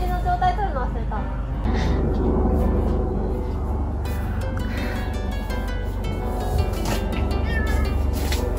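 A cat meows a few times at an agricultural greenhouse where plastic sheeting is being replaced, the short rising cries set against steady background noise and people talking nearby.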